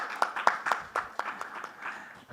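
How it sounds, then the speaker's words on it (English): Scattered applause from a conference audience welcoming a panelist at a fintech event, heard as a handful of distinct, sharp claps that thin out and fade toward the end. "Let's give our man a big, big round of applause."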